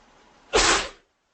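One person sneezes once, a short loud burst that ends abruptly, in a quiet room.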